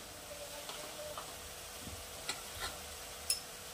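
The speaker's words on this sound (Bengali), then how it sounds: "এটাকে আমি কিছুটা সাঁতলে নেব, কাঁচা গন্ধটা কেটে যাবে" Ginger garlic paste and turmeric being sautéed in a pan, a faint steady sizzle broken by a few soft spoon taps and stirring scrapes, close and without talk.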